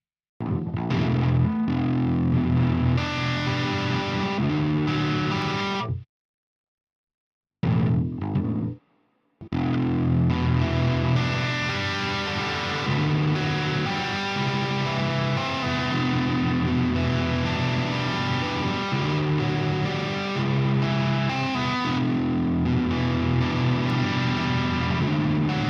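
Loud, dense distorted electric guitar playing metal, continuous and saturated with a brief dropout to silence near the middle before the heavy riffing resumes.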